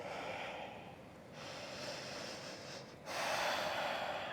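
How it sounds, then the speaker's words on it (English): Deep, slow breathing during a pyramid pose in an autumn yoga flow, with long airy inhales and exhales close to the microphone, soft and steady, with no talking. "2 breaths here."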